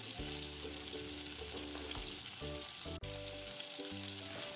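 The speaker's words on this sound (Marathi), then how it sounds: "आता यामध्ये मिक्सर पॉटमध्ये जी ग्रेव्ही केली होती ती यामध्ये घालू" Ground gravy sizzles steadily as it goes into hot ghee and masala in a pan while making restaurant-style paneer lababdar, a continuous close frying hiss that barely pauses for a moment, with a tonal background underneath.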